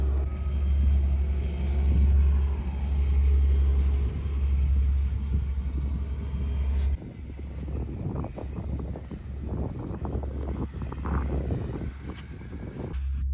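An Acura RSX Type S drives along with a deep, steady engine rumble and road drone, the tone shifting midway as the car changes speed.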